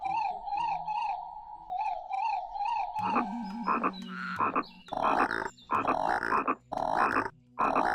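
A cartoon character's voice imitates a frog's croak, giving repeated bouncy croaking calls at first, then longer, louder croaks in a broken series of bursts, heard clearly with no other speech.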